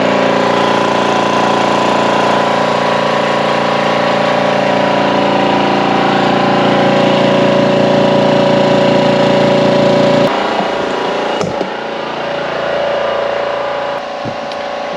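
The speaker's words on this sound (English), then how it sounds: "And then we're just gonna turn the compressor on." An Air Venturi 4500 PSI PCP air compressor for filling paintball and air gun tanks runs loud and close, a steady droning engine-like hum with rattling texture, shifting in pitch partway through, with no speech.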